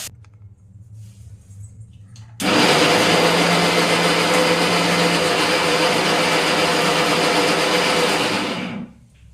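A mixer grinder grinding masala spices starts abruptly and whirs loudly and steadily for several seconds before switching off, a high motor whine over a coarse grinding rumble.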